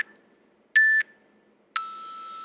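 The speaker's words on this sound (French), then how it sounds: "Donc on va avoir les 3 bips, transition, et puis on va démarrer shuffle squat après" Three electronic workout-timer beeps mark a transition between exercises: a short tone, then a louder half-second beep, then a longer sustained final beep, each clear and isolated against near silence.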